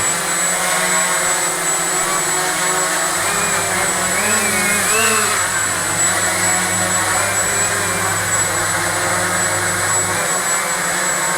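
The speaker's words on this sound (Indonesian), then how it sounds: "Tapi ini kita coba terbangkan aja untuk mengetahui kalau seandainya memang pesawat ini dalam keadaan stabil terbangnya" A Walkera QR X350 Pro quadcopter, converted to an H-frame layout, hovers in a stable test flight, its propellers giving a loud constant whine and buzz that shifts slightly in pitch throughout.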